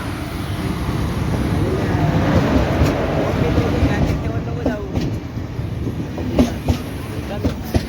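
A train pulls into a station platform, its broad rumbling roar rising steadily and then easing as the wagons roll past, with crowd noise and people talking on the platform throughout.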